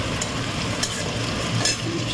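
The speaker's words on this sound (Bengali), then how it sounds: "একদিকে চিড়ের পোলাও বানাচ্ছি" Flattened rice pulao frying and sizzling in a pan while being stirred, a steady close hiss with occasional scraping strokes of the spoon.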